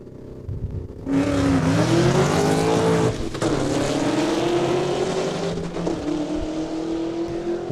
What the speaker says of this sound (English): you can tell transmission is standard as he's going through the gears down the quarter mile